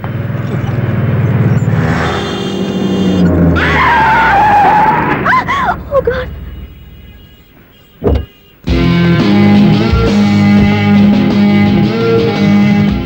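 A car brakes hard on the road with a long, loud tire screech up close, followed by a brief pause, a thump and then dramatic music.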